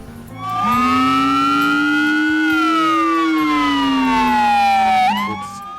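A loud emergency siren wails steadily, its pitch sliding up and down in a sustained howl that fills the clip, then drops off sharply near the end.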